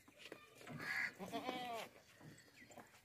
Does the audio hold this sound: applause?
no